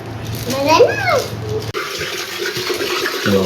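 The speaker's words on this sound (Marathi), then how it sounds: "पूजाने हे मागवलंय आणि बरोबर ते पाणी त्याच्यातच चाललंय, ते वरती पण नाही आलं." Water runs and gurgles down into a drain pipe, a close rushing wash that continues under a person speaking.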